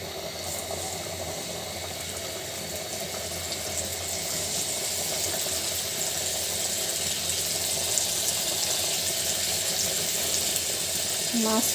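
Large pieces of katla fish fry in a hot wok, giving a steady broadband sizzle and hiss that builds slightly over time. The sound continues evenly without pause and has no talking over it.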